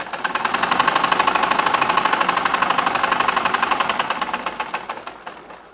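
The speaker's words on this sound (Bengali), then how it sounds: "এবার সোজা হাফ ইঞ্চি ভিতর দিয়ে বরাবর সেলাই করব।" Sewing machine stitching a pajama pocket, a fast, even run of needle strokes that starts loud and close, then slows and fades toward the end.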